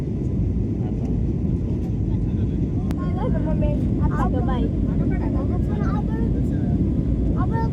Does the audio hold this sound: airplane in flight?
yes